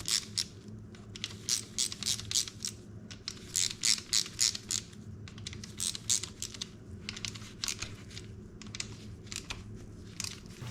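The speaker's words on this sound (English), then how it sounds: "Alternate winding in the bolts and then you can walk the cover in." Bolts are wound into the engine cover of a Honda CRF150R, heard as quick bursts of close ratchet-like clicking separated by short pauses over a low background hum, with no talk.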